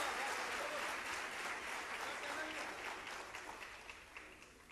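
Crowd applause at a Hindi comedic poetry gathering, a dense wash of many hands clapping that gradually fades toward the end.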